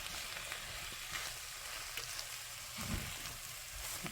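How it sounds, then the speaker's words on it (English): Beef, garlic and vegetables are stirred in a soup pot, a soft steady sizzle with faint scraping of the spoon, quiet and with no talk. "I'm just going to give this a nice stir here in the pot."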